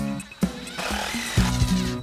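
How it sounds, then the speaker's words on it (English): A power drill drives screws into the wooden panels of a raised garden bed built from 2x12 boards, with loud whirring bursts that rise and stop, plus a sharp knock, heard up close. "So I'm screwing in the front panel, or the bottom end of the front panel"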